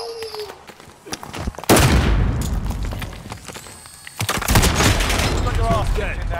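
Gunfire and booms in Call of Duty Modern Warfare crack out in heavy bursts with rattling automatic fire and explosions, loud and close, while a player talks over the action.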